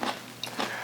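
Someone bites into a crunchy Vlasic pickle, with a couple of short crisp crunches close by and brief mouth noises between them.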